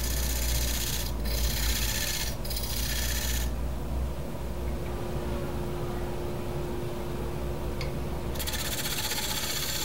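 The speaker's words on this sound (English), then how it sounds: "And then we'll switch over to the Easy Wood rougher to clean out the rest of the material." An Easy Wood rougher cutting wood on a lathe while turning a puzzle platter, a loud continuous rasping hiss over a steady motor hum that eases off briefly at several points before resuming, with no talking.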